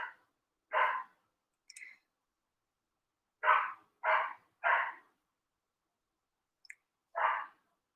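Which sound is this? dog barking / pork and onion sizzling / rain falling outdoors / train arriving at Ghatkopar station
dog barking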